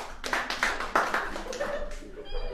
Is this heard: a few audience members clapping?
yes